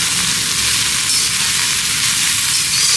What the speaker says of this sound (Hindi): अब गोभी को यहाँ पे 2 से 3 मिनट के लिए हमने घी के साथ फ्राई कर लेना है